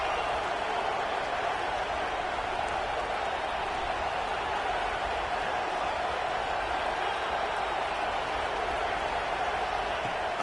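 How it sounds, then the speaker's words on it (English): A stadium crowd at a football game keeps up a dense, steady roar of cheering on a third-down play, lasting the whole stretch without a break. "the crowd really getting into it"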